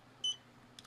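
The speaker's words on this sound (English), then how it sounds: "Turn off that beeping sound too." A DOVPO e-mech vape mod beeping: one short clear electronic beep, then two faint quick chirps, in a quiet room.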